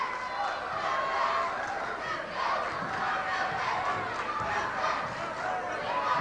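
Home crowd in a high school basketball gym at Glendale versus Kickapoo, a dense steady roar of cheering and shouting voices filling the space continuously, loud and sustained with no break.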